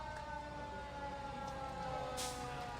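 An ambulance siren wails steadily during a veterans parade, sounding somewhat distant and held at a constant pitch beneath faint outdoor crowd noise, with no talking.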